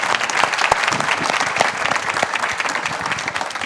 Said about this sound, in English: Let's have one more round of applause for all of our presenters